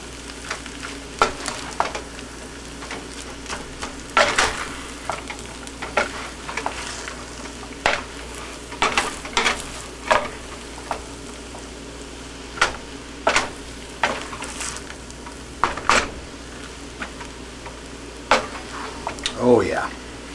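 Egg being folded and stirred into four-meat fried rice in a hot pan, a steady sizzle under repeated scraping strokes of a utensil, close and moderately loud, with brief speech now and then.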